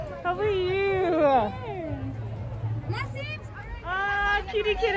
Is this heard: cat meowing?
yes